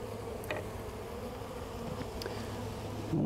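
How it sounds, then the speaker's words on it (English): Honey bees buzz steadily up close during installation of a live beehive, a dense continuous hum with no speech. "people like to dump the bees in"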